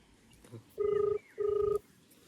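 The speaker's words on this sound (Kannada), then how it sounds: "ನಿತ್ಯಾನಂದಾಗೆ ಫೋನ್ ಮಾಡಿದ್ದೀನಿ" Two short bursts of a phone's ringing tone sound as a mobile call goes through, each a steady pulsing note separated by a brief gap, fairly quiet and with no talk.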